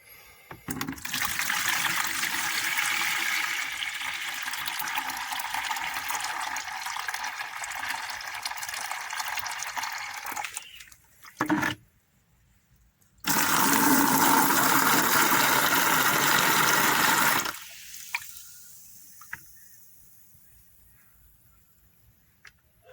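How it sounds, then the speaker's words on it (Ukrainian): Water gushes into a container while tomato seeds are rinsed, two long loud pours separated by a short pause, then faint trickling and splashes as it settles. "Доляв води і змиваю."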